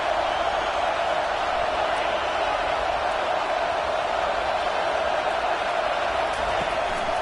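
Steady, dense roar of a stadium crowd in an NCAA football video game, a constant wash of cheering noise with no breaks, filling the background at even loudness.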